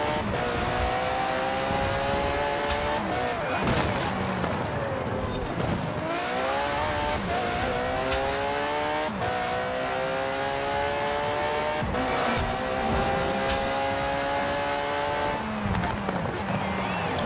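A car in the racing game Forza Horizon 4 accelerates hard through repeated rising engine sweeps, then dips sharply as it brakes before climbing again, loud and continuous with no talk.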